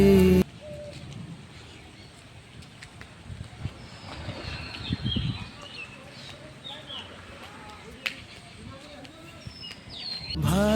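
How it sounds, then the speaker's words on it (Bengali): Birds calling and cooing among mango trees in a yard, scattered chirps and coo-like calls at moderate distance over outdoor background noise, with no one talking. "আর আপনাদের সঙ্গে শেয়ার করছি পাখিদের আওয়াজগুলো একটু শুনুন।"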